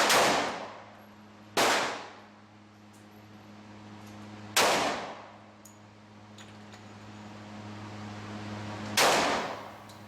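Four sharp, loud reports from a handgun at a shooting range, spaced unevenly across the stretch, each with a quick decaying echo over a faint steady hum.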